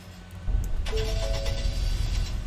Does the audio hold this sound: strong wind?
no